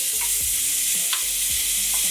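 Onion, garlic and ginger fry in plain vegetable oil with a steady, close hiss, broken by a few soft scrapes and knocks of a wooden spoon being stirred through the pan.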